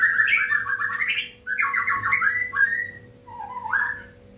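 A long-tailed white-rumped shama sings nearby in rapid, warbling whistled phrases, loud and clear, with short pauses between bursts.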